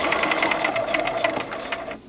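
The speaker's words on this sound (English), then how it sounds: "you want to sew a seam that's a 1/4 inch from the folded edge" A sewing machine runs steadily, stitching a quarter-inch seam along the folded edge of fabric, with a fast, even mechanical clatter up close that stops abruptly at the end.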